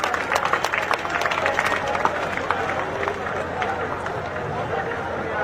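A large crowd claps and cheers to welcome former deputy chief minister Dushyant Chautala onto the stage at a JJP rally in Dadri, dense sustained applause with scattered sharp hand claps over a continuous crowd murmur.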